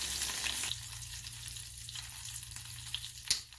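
Small bait fish frying in a pan, a steady soft sizzle with a faint background hum and a sharp clink of a utensil near the end.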